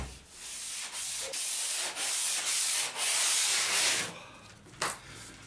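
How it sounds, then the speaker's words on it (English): An old power sander works over a boat's surface in rhythmic rasping strokes, loud and close, with short pauses between passes and a brief knock near the end. "The old sander isn't too bad"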